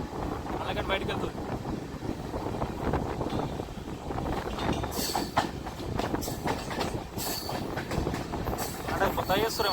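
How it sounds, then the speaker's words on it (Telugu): A passenger train rolls along the Visakhapatnam to Araku line with a steady loud rumble and clickety-clack of wheels, plus wind buffeting the microphone and voices talking in the carriage. "అలా పోతుంది ట్రైన్"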